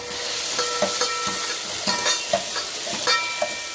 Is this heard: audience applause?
no